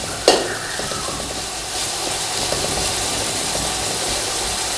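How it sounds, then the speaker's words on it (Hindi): Onions frying and browning in a pot for Sindhi biryani give a loud, continuous sizzle with a crisp stirring clank at the start. "प्याज हमारी ब्राउन हो रही है"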